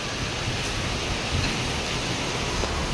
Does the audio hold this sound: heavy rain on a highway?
yes